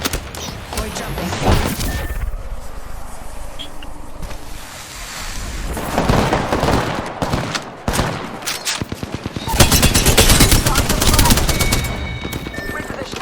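Apex Legends gunfire rattles in rapid automatic bursts amid loud game effects, with the heaviest volley near the end, as players talk over the shooting.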